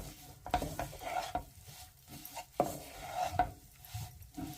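Ground edible gum being stirred into a frying mixture in a pan, with intermittent scraping strokes and a soft sizzle beneath, several distinct stirring movements spread over a few seconds, no talk.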